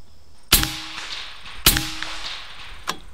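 Two sharp, loud shots from a .457 caliber air sniper rifle about a second apart, each with a short ringing tail, then a fainter distant impact knock.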